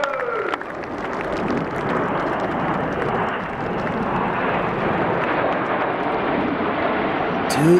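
Red Arrows RAF jets at the RIAT 2018 Royal Air Force centenary air show roar steadily overhead for several seconds, a broad continuous engine rush with crowd noise and someone speaking underneath.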